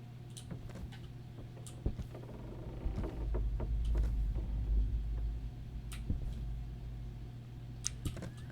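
Deep, low ambient hum from the horror game Demonologist, a steady rumble holding throughout and swelling louder midway, with scattered faint clicks and ticks on top and no talking.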